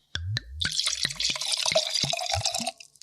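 Fourteen-year-old Chenin Blanc poured generously into a wine glass, a burbling, gurgling liquid splash lasting a couple of seconds with no talking, preceded by a few short clinks or drips.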